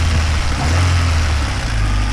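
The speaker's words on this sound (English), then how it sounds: "First turn of the key, no problems. It sounds healthy." A high-mileage Honda Civic with a 1.6 VTEC engine idling just after starting, a close, loud, steady low hum and rumble that holds even for two seconds.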